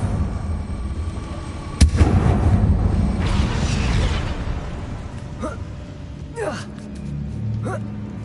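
Confringo fire spell cast in the video game Hogwarts Legacy: a sharp blast followed by a rumbling explosion that fades over a few seconds, with gasps and voice sounds afterward.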